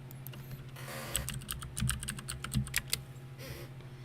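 Fingers typing on a mechanical keyboard with Cherry switches in a quick run of crisp clacking keystrokes, close and clear, with no talking over it.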